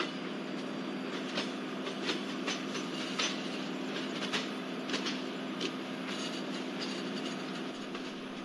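An express train runs steadily in a train simulator on the Guntakal-Pakala route, with a constant rumbling drone and repeated clickety-clack wheel beats over the rails, moderately loud and alone.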